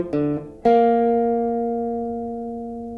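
Guitar playing a short melodic phrase of a few plucked notes, the last note ringing out clearly and slowly decaying, close and alone.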